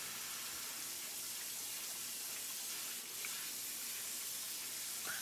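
Cold running water rinses pepper seeds in a sink, a steady broadband hiss of flowing water that continues evenly throughout, close and moderately loud.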